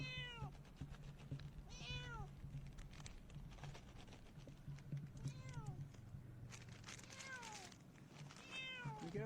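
A cat meows repeatedly, several drawn-out, bending calls spaced a second or two apart, fairly close over a steady low hum and soft patter.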